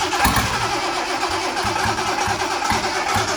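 Datsun 280ZX with an L28 turbo engine (L28E+T) starting for the first time, a loud, close, continuous mechanical engine roar with a steady low pulsing rhythm, heard alone without talk.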